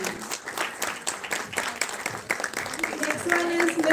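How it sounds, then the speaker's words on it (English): Audience applause at a live women's awareness event in Chandigarh, a sustained crowd of clapping hands, fairly distant and even, with a voice speaking over it near the end. "A big round of applause for Mrs."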